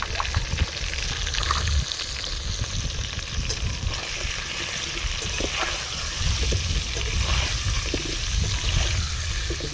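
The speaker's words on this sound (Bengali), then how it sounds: "আলুতে সামান্য লবণ দিয়ে দিচ্ছি সেই সঙ্গে দিয়ে দেবো সামান্য হলুদ গুঁড়ো দিয়ে আলুটা ভেজে নেব" Potato pieces seasoned with salt and turmeric powder frying in a pan for winter vegetable khichdi, a steady close sizzle with soft bubbling that swells slightly toward the end, no voices.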